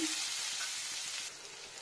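Garlic and spices sizzle in hot oil in a pan, a soft, steady crackling hiss that eases slightly partway through, faint and close with no voices.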